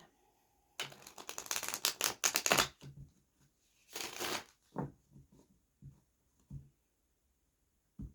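Tarot cards being shuffled in quick riffling bursts, a long run followed by a shorter one and a few soft taps, close by and quiet.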